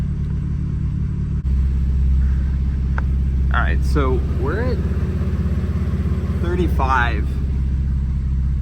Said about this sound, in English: Luis is under the car and literally just can't hear me because the car is too loud.